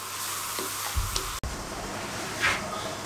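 Masala for beef paya frying in ghee over a high flame, a steady dense sizzle with a few soft stirring scrapes and one sharp tap, no voices.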